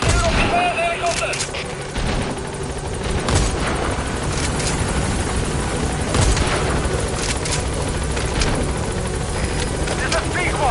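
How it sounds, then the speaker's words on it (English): Attack helicopters in Metal Gear Solid V roar steadily and loudly throughout, mixed with bursts of machine-gun fire and booms in a dense battle scene. "Fokus alles nur auf die Feuerhelikopter."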